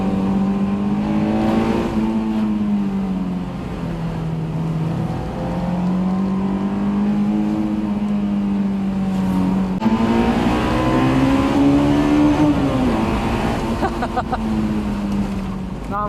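Engine of a Honda S2000 sports car, driven in Japan, revving with a steady droning tone that climbs and falls in pitch, loud and close from inside the cabin over continuous road noise.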